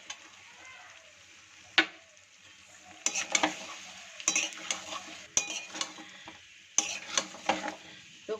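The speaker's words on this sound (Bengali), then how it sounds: "কড়াইশুঁটিটা দিয়ে আমি একটু ভালো করে নাড়িয়ে নিচ্ছি" Green peas stirred in a hot pan while making peas kachori: a steady faint sizzle with scraping spoon strokes that come in clustered bursts, the clatter growing louder over the second half.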